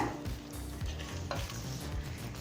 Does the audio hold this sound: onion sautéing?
yes